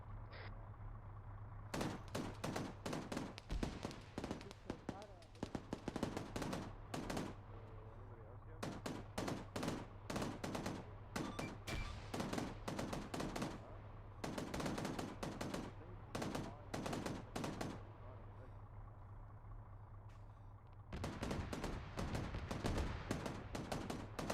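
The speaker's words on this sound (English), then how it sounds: "We're taking heavy fire." Heavy sustained gunfire from an Arma 3 military mission, with dense bursts of automatic rifle and machine-gun shots in clustered volleys, a short lull, then another loud burst, all over a steady low hum.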